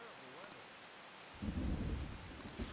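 Rain and thunder in the video game Persona 5 Royal: a steady hiss of rainfall, then a deep rolling thunder rumble that swells in and lingers, with faint sparkling chimes overhead.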